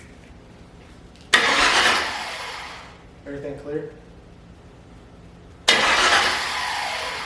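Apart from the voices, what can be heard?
race car engine starting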